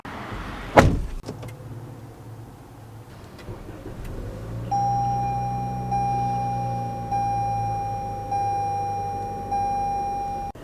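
Door of a 2022 Toyota RAV4 TRD Off-Road thumps shut once near the start, followed by a steady repeating chime of beeps from inside the cabin over a low idle hum.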